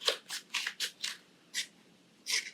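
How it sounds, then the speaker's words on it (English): Scissors snip through a six-egg cardboard carton in a quick series of crisp cuts, about seven distinct close-up snips in an uneven rhythm with short pauses between. "a 6 egg carton shell, so I'm gonna cut these out. It's super easy to cut."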